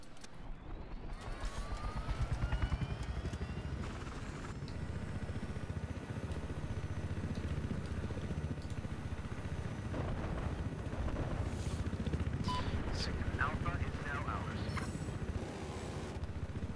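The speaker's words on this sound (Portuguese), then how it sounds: "Estou no helicóptero." A helicopter in Battlefield 4 drones with a steady low rotor and engine rumble throughout, joined by scattered bangs and effects, while a player talks over it.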